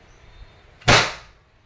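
A Umarex Glock 17 Gen 3 airgun fires a single sharp, loud shot that cracks and decays over about half a second, with quiet room tone before and after.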